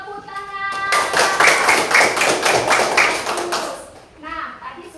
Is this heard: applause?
yes